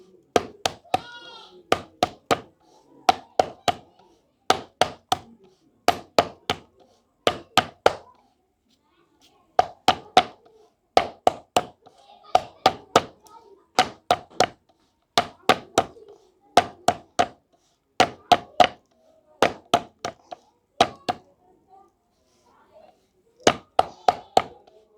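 Jowar roti dough is patted by hand in steady bursts of sharp, close slaps, several in quick succession, then short pauses, repeating throughout with a faint voice now and then between them.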